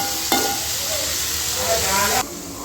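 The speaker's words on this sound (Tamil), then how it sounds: "கொஞ்ச நேரம் இருந்தால் போதும் நல்லா வதங்கட்டும்" Onions and spices sauté in a pan for a dried-fish curry, a dense, steady sizzle and hiss close up, with one sharp stir near the start before it quiets slightly at the end.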